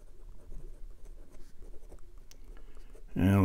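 Scratchy nib of a Hero 565 fountain pen dragged across paper in reverse strokes, a soft continuous rasping with small skips, fairly faint and close, ending in a louder burst of noise.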